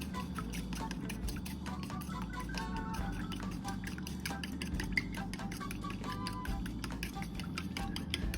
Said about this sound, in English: stir with a fork or a chopstick